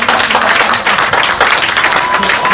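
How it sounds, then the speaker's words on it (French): Wedding guests at a ceremony clap together in a loud, dense burst of applause lasting a couple of seconds, with voices mixed into the crowd noise. "On a besoin d'applaudissements"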